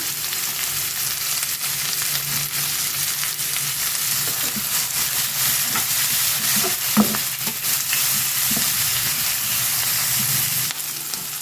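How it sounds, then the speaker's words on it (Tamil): Onions sizzle and fry steadily in a hot pan with cut dried chillies, with occasional soft stirring scrapes under the constant crackle. "வெங்காயம் நல்லா வதங்கிட்டேன் பார்த்திங்கன்னா"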